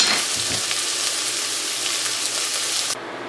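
Onions, garlic and shallots sweat in a hot pan with a steady, close sizzling hiss and light stirring, continuous until the frying noise drops away abruptly near the end.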